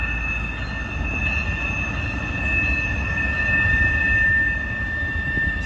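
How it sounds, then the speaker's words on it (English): A CSX freight train rolls past close by, a steady loud rumble of railcars with sustained high-pitched wheel squeal running throughout. "there's the train making all that goddamn noise"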